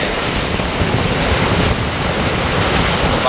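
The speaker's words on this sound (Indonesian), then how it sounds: "Ombak yang begitu ganas seperti ini ya." Rough, heavy surf of the Red Sea at Jeddah crashes in a steady, loud wash of churning water and wind, with no pause across the whole stretch.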